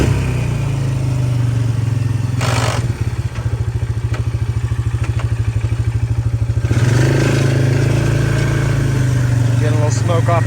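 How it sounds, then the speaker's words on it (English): A four-wheeler ATV engine idles loud and close in four-wheel drive, with a steady low drone that turns into a rapid rhythmic chugging for a few seconds before settling back, while people talk over it. "Let's test out the four-wheel drive."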